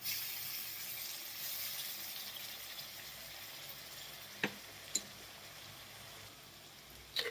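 Chili paste frying in a pan gives off a faint, steady sizzle heard from a distance, with two or three soft clicks and taps, and no voices.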